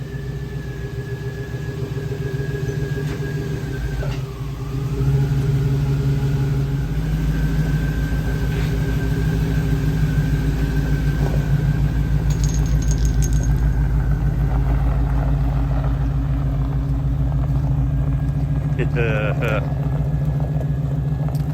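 A Chevrolet Blazer's engine hums steadily from inside the cab as it idles and pulls away, a continuous low drone that swells slightly after a few seconds and holds.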